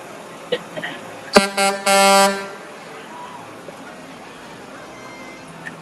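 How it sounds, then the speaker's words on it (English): Vehicle horns sound at a Christmas parade, with a sharp honk and then a couple of short blasts followed by a long loud air-horn blare. All are close over a steady outdoor background hum. "It's like you're not supposed to honk your horn unless you're in a parade, in which case you're going to honk your horn a lot"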